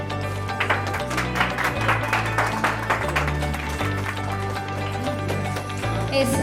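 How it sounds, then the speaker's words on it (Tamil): An audience claps at a finance company grand opening in Erode, with the clapping running under loud music that carries steady low bass notes, broad and sustained throughout. "Please everyone give a great clap."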